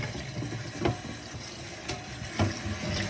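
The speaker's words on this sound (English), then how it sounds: "I'm still rinsing." Running tap water pours steadily into a sink while something is rinsed, a close, continuous wash with a few soft splashy surges and no voices.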